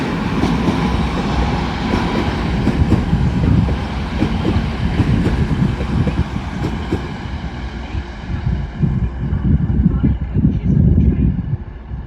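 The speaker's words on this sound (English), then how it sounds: "Arriving in now is 1237 Transpennine service from Liverpool Lime Street to Cleethorpes, 185-109." TransPennine Express Class 185 diesel unit pulling into Doncaster station on the East Coast Main Line, a loud steady rumble with rhythmic wheel clatter and squealing, close by with wind buffeting the microphone, gradually easing as it slows.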